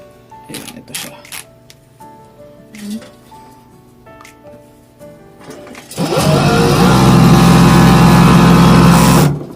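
An overlock sewing machine stitching fabric, heard as a loud, steady mechanical whir that starts abruptly partway through and runs continuously to the end, after a stretch of speech and small clicks.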